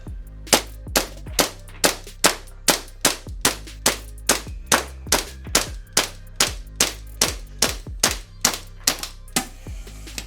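A G&G SMC-9 gas blowback airsoft SMG fires about twenty sharp, loud, evenly paced semi-auto shots over ten seconds, each a crisp crack with a brief mechanical rattle, with no talking.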